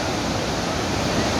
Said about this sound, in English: you can clearly hear the roaring sound of the water falling down the waterfall